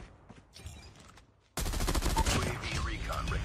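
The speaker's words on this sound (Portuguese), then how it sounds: "Tô atirando todo mundo, mano." M16 automatic fire in Call of Duty Mobile: quiet game sounds and scattered shots, then a sudden loud, dense burst of rapid gunfire that continues to the end.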